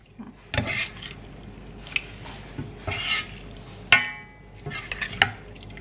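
A utensil stirs and mixes homemade chicken larb with cilantro in a dish, producing close scraping strokes and sharp clinks against the bowl in irregular bursts, with no talk.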